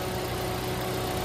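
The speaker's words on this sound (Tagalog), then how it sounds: "Napakatahimik ng makina mga boss." A Toyota Rush's 4-cylinder, 16-valve gasoline engine idling, a smooth, quiet, even hum heard steadily and up close with no voices.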